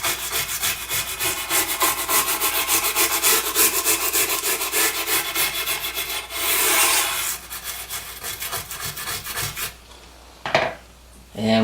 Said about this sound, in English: just scrape that around a little bit with this hand wire brush